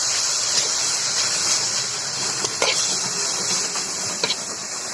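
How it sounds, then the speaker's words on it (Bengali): Goat tripe frying in a pan, a steady loud hiss of sizzling throughout with a few brief crackles and pops, no talk. "কিন্তু আমরা এই ভুঁড়িটা এভাবে ভাজছি"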